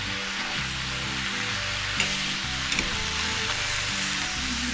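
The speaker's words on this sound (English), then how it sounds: "we take our potato masher and then we're going to mash up our hamburger and onions to get them totally mixed together" Ground hamburger and onions sizzle steadily in a frying pan while a potato masher presses and mashes them, with a few soft clicks of metal against the pan over the continuous frying hiss.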